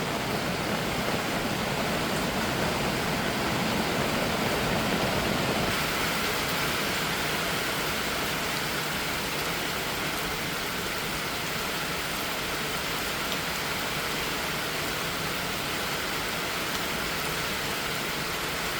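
Steady hiss of rain falling in rural Korea, a dense even wash that stays constant and moderately loud throughout, with no voices.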